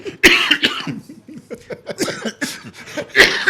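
Loud, close coughing in a series of harsh bursts, broken up by breathy, laughing sounds.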